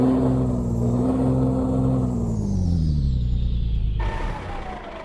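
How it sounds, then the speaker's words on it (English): Deep rumbling Caterpillar C15 engine, chip-tuned to 840 horsepower, pulling a Peterbilt 389 in Euro Truck Simulator 2; the loud steady drone rises and falls in pitch through gear changes, then eases off and fades slightly near the end. "it is the Caterpillar C15 840 horsepower chip tune"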